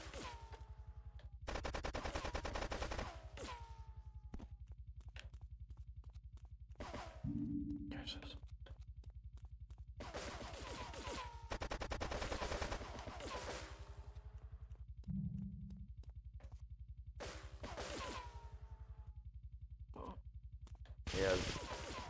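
Bursts of Grand Theft Auto 3 gunfire crack out in several loud volleys, some rapid like machine-gun fire and others single shots, separated by brief pauses, with faint game sounds between them.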